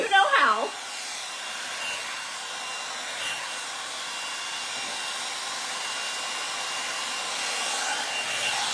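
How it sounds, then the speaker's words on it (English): A hair dryer blows steadily as someone dries their hair, a constant broad whooshing hum that keeps going without a break, with a brief burst of voice at the start. "come hang out with me while I dry my hair"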